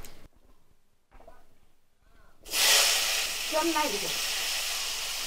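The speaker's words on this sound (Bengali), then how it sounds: "শাকের ডাটা এবং আলু দুটোকে লবণ এবং একটু হলুদ দিয়ে মেখে একবারে ভাজবে" After a quiet stretch with a little talk, greens stalks and potatoes coated in salt and turmeric hit hot oil in a rural kitchen, bursting into a loud, close hissing sizzle that carries on steadily.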